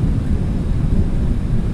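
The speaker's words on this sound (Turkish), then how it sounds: "Çok sıcak bir havadan hemen yağmurlu bir havaya geçiyor" A sudden rain shower in Alanya sounds as a loud, dense low rumble and roar, steady throughout with no voices.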